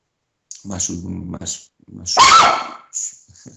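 A female dog whimpers in a brief, thin whine partway through, mixed in with close conversational speech that runs over most of the moment.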